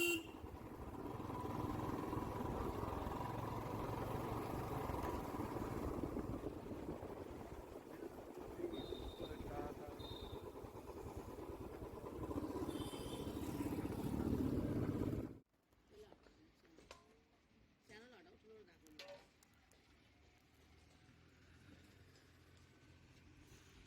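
A Royal Enfield Bullet motorcycle rides a road-trip route from Mussoorie toward Yamuna Bridge, Uttarakhand, with a steady engine and wind roar and a couple of brief horn toots, then drops abruptly to near quiet after about fifteen seconds.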